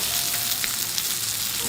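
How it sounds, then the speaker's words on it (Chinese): Moonfish fillet frying in butter with garlic slices in a pan, giving a steady, close, continuous sizzle and crackle with no speech. "黄油给它下锅融一下，再来几片蒜片"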